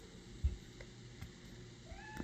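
A house cat meows once or twice, faint and a little distant, over a quiet room hum with no talking.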